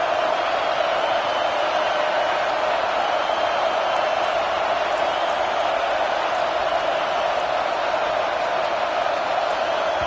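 Stadium crowd at a South Carolina vs Notre Dame college football game roars loudly and steadily throughout, a dense sustained wall of noise with no pauses.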